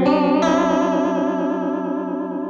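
A sustained synth tone wavers under a fast, Leslie-speaker-style modulation effect, its chorus-like shimmer steady and loud throughout, with a brighter layer joining just after the start.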